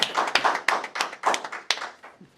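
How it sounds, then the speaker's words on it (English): A small group clapping briefly at a town select board meeting, about half a dozen distinct sharp claps spaced irregularly, close and fairly quiet, with no one speaking. "round of applause for Diane."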